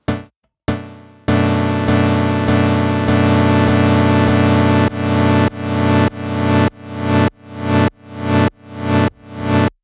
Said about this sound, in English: Let's play around with the amp envelope to get a better sense of how it affects our sound.